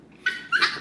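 A nervous Yorkie whimpers during grooming, giving a few short, high, close whines in quick succession with no talk over them.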